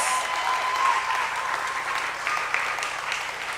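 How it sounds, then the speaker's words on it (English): A crowd claps steadily at a junior school graduation as parents are called up to respond to the graduates, a dense, even wash of applause with no talking over it. "A big round of applause"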